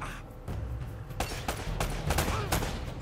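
Gunfire in the video game Uncharted rings out as a burst of several sharp shots over a continuous game soundscape, while a player talks over the action.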